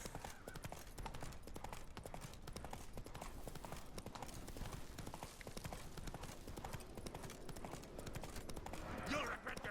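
Horse hooves trotting in Witcher 3, a steady game clip-clop of hoofbeats running on over a dense background, with someone talking over it.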